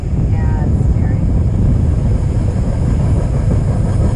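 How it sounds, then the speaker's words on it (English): A train rolling over a railway bridge above a kayak on a marsh, heard as a loud, steady low rumble that fills the whole stretch, with a little wind buffeting the microphone. "we gotta wait for the train to come"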